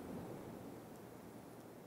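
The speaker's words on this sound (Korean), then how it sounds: "저기 파도는 유유히 파도가 지금 치고 있는데" Sea waves wash steadily onto the shore near the Goseong Unification Observatory, a soft continuous surf roar with no distinct breaks, faint and distant and heard alone.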